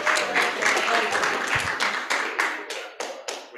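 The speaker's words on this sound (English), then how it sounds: "We're cheering" A church congregation at a Sunday service claps and cheers, a dense burst of applause that thins into separate claps toward the end.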